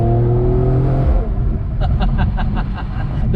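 A Mercedes-AMG E53 Cabriolet hybrid performance convertible driving through turns, its engine droning steadily then easing off into a lower rumbling road noise, with a voice briefly heard over it near the end.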